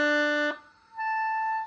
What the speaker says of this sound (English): So if I were to slur from a low note to a high note and I didn't do anything with my air